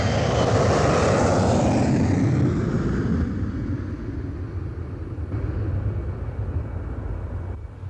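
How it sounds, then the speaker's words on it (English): An airplane passes overhead with a loud, steady engine roar that fades gradually as it moves away. It lasts several seconds and no one talks over it. "It's not a bird, it's an airplane."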